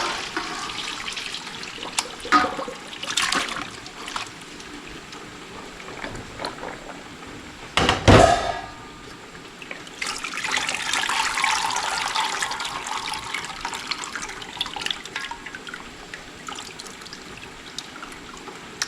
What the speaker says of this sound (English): I've just got to strain out the water